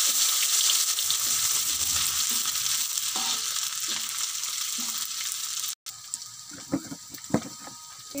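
Anchovies drop into hot cooking oil and fry with a loud, continuous hissing sizzle. After several seconds the sizzle cuts off abruptly, leaving quieter scattered clatter and knocks.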